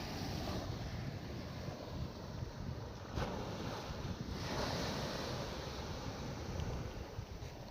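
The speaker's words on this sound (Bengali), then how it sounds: "আর এখানে প্রচন্ড ঢেউ আসছে" Strong waves churn at a river ghat, a loud, continuous roar and wash of water mixed with gusting wind buffeting the microphone.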